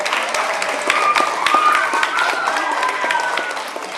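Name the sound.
audience applause at a school presentation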